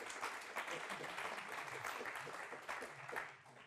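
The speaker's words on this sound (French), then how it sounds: "Donc on peut applaudir Bruno." Audience applause at a French-language conference session on Earth systems, clapping spread through a room at a fairly low level with some murmuring mixed in.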